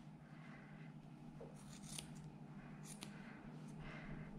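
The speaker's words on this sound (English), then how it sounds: "I always use the same pair of Westcott titanium 5-inch scissors." Quiet snips of sharp 5-inch Westcott titanium scissors cutting through fur while an adult angora rabbit is groomed, a few soft clicks close by over a steady low background hum.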